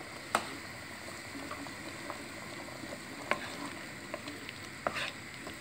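Food frying and sizzling in a pot after being seasoned with salt, a steady soft crackle with a few sharp clicks and taps from a utensil against the pan, fairly faint and without talk.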